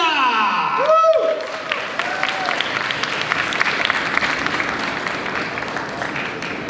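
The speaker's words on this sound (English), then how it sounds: "Please give a huge round of applause to Alodia!" A convention audience bursts into loud, sustained applause with cheering for a guest cosplay star, following a single whooping shout near the start.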